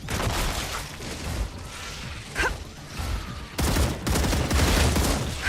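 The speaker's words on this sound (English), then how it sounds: "Reloading." Rapid bursts of sci-fi gunfire crackle in StarRupture, steady and loud with a brief dip and a swishing sweep midway, then a heavier renewed volley toward the end.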